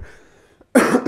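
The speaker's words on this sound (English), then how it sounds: "Sorry, I have to cough every once in a while" A single loud, harsh cough bursts out near the end, following a quiet stretch of low background murmur.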